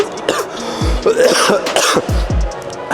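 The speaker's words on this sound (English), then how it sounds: "I swear I'm not making that cough up." A man's harsh, throaty coughs come close up in several quick bursts, with throat clearing mixed in.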